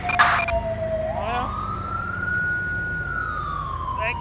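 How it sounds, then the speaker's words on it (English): An ambulance siren in the video game Grand Theft Auto V, on a park ranger patrol in a forest, wails in a long rising and falling sweep up close, with a brief spoken word at the start. "we're going to go ahead and get an ambulance out here"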